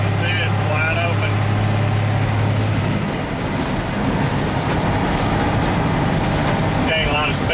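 A first-generation Dodge truck with a diesel engine pulls hard at wide-open throttle, a steady loud drone with road roar. A brief low tone sits under it early on, and no voices are heard.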